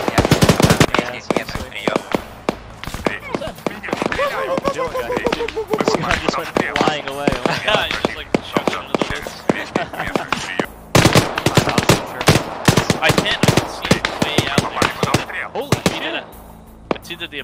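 Rapid gunfire in Arma 3, dense bursts of automatic fire and single shots cracking continuously throughout, with a voice talking briefly over the shooting.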